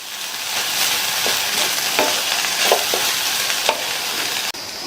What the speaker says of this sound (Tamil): சேர்த்துட்டு நல்லா ஒன்று போல மிக்ஸ் பண்ணி விட்டுக்கங்க.